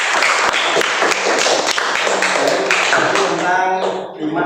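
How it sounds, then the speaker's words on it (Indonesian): Children in a primary-school Islamic religion lesson clap their hands in a steady, repeated rhythm, crisp and close, with a voice surfacing near the end. "Tepuk tangan."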